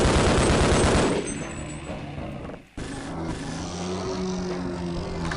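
Gunfire in the video game Half-Life: Opposing Force during a fight with a large monster: a dense, loud burst of rapid shots in the first second, then a sudden drop, a brief gap and a lower rumbling game din.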